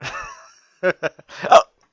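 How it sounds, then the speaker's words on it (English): A single sharp hiccup cuts through a brief pause in a casual conversation, preceded by short bursts of voice, loud and close. "Damn hiccups."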